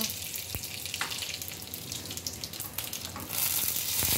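Urad dal and asafoetida frying in hot oil give a continuous crackling sizzle with small pops, close and fairly quiet, swelling slightly louder near the end with no talk.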